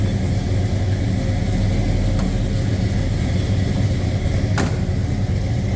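A 1966 Chevrolet Chevelle two-door hardtop engine with Holley EFI runs steadily with a low, even mechanical drone, close by and continuous, with a couple of brief sharp clicks standing out.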